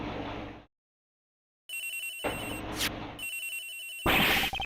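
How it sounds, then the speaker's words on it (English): A cell phone rings in the Ace Attorney Investigations video game with several electronic ringtone bursts separated by short gaps, clear and fairly loud, with no voices. "Agent Hicks' phone! It's ringing from somewhere, sir!"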